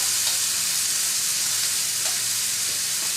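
Food sizzles steadily in a hot pan, a dense, even crackling hiss with a few faint pops, no voices.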